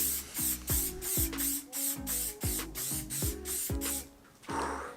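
Bursts of aerosol spray paint hit bike parts, about nine short rhythmic hisses in a row, close and fairly loud, with no talking.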